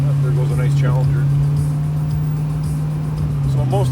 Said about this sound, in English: There goes a nice Challenger.